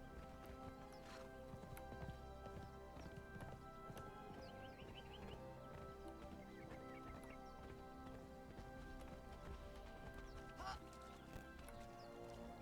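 Horse hooves clip-clop faintly in the Conan Exiles video game, a quiet irregular clatter mixed with game ambience, a brief whinny-like call and scattered bird sounds.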